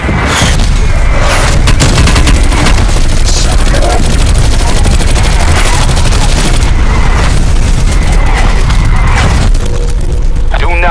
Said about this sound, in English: Sims requesting artillery action.